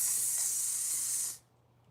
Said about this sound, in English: pink luster spray